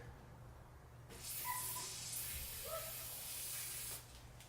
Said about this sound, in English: I'm going to spray that.